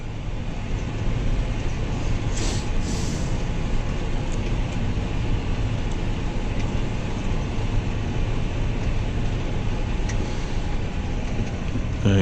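A John Deere 6190R or 6175R tractor pulling a spinning disc compost spreader drives along at a steady pace, its engine giving a constant low rumble and drone with wind buffeting the microphone throughout.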